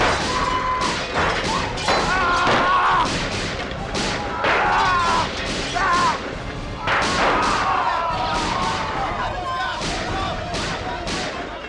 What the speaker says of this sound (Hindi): बहुत गोलियां चली।